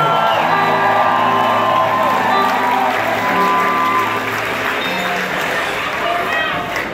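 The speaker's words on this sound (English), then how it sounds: "again, a round of applause for Ben" A concert crowd at a show in Toronto, 2018, applauds and cheers for Ben, a sustained roar of clapping with whoops and shouts over faint lingering instrumental tones.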